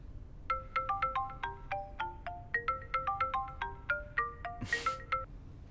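Phone ringtone sounding while a call is being placed, a bright repeating melodic chime pattern of short tones in quick succession, alone and fairly close, with a brief noisy rustle near the end.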